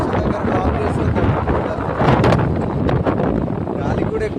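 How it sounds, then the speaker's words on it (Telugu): Strong wind buffets the microphone in a steady, loud roar with gusts while travelling toward a railway station, a continuous rumble filling the whole stretch. "గాలి కూడా ఎక్కువ వస్తుంది"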